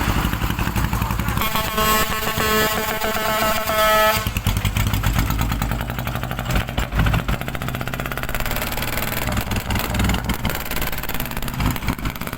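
A motorcycle engine idles loudly and close, its exhaust giving a rough, throbbing rumble that stays steady throughout, with a high whine fading out early on.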